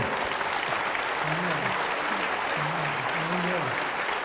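Steady audience applause at a Copenhagen Q&A event, an even wash of clapping throughout with a voice speaking briefly underneath.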